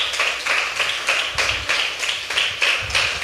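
A church congregation claps in a fairly rhythmic beat, moderately loud hand claps repeating at a steady pace for a few seconds.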